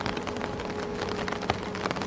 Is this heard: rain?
yes